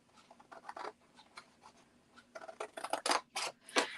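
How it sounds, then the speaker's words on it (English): Scissors snipping through card along score lines for a lid and base, a run of crisp close cuts in uneven bursts, growing louder and denser toward the end. "I'm just going to cut up the score lines."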